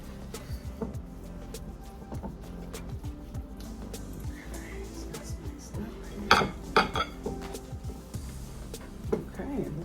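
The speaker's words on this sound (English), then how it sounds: "Make sure all your dry ingredients is mixed into the yams." Dry ingredients and spices being stirred into thick mashed yams in a bowl for a sweet potato cobbler, a spoon scraping and clinking against the bowl, with a few sharper knocks, under steady talking.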